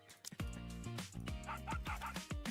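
A dog companion in the mobile shooter Goddess of Victory: Nikke barks and yips in quick repeated bursts with whimpering tones, loud and close over game background sound.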